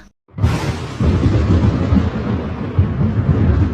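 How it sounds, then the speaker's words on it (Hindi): Loud rumbling thunder from a violent storm over a forest, a sudden heavy crack after a brief silence rolling into a sustained low roar that continues steadily to the end. "एक दिन उस जंगल में बहुत तेज तूफान आया।"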